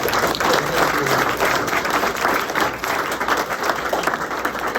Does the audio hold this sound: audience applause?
yes